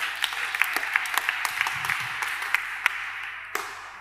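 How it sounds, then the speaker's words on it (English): A church congregation claps steadily, a sustained patter of many hands filling the space, with no voices standing out. "Why can't you clap for Jesus?"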